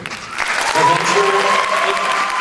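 Audience applause fills a closing ceremony hall at a model UN conference fellowship announcement, loud sustained clapping from a large crowd for a couple of seconds.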